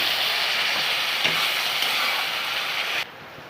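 Chopped onion hits hot oil in a pan while cooking chicken kasha, a loud, steady hiss and sizzle that runs for about three seconds, then drops abruptly to a quieter crackle.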